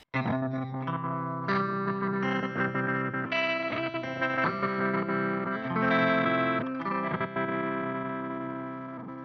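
A heavily effected electric guitar plays sustained chords through a Chase Bliss Generation Loss Mk2 pedal, with distortion and chorus, the tone crackling and sputtering with small pops and glitches throughout.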